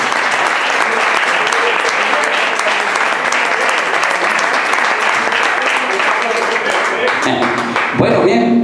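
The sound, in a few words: audience applause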